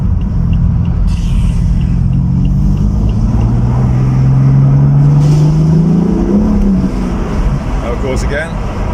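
A BMW M4 F82 coupe with a manual gearbox pulls hard, its engine note climbing steadily in pitch under a loud rumble of road and cabin noise, then easing off near the end.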